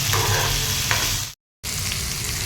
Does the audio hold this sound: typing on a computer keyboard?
no